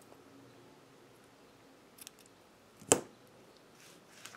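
A single crisp snip of scissors cutting off the tail end of crochet yarn, close and brief, with a couple of faint handling ticks around it in an otherwise quiet room.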